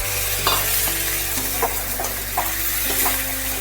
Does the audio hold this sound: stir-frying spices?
yes